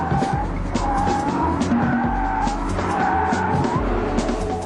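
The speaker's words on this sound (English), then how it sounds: "With its stability control shut off, the rear drive M5 offers some great drift." A rear-drive BMW M5 sports sedan drifts with stability control off. Tyres squeal in long wavering howls over a loud engine roar, close by and continuous.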